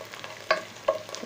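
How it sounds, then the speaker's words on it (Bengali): Spices for a chicken and taro curry fry in a pan with a faint sizzle and two quick stirring scrapes in just over a second, close by. "দেখুন আমার মশলা ভাজা হয়ে গেছে"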